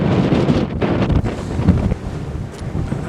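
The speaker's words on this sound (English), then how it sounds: "And that wind's getting up again." Wind gusting at Brough Castle, a steady loud buffeting roar across the microphone that rises and dips in strength, with no talk.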